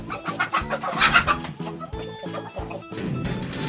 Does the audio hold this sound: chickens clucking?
yes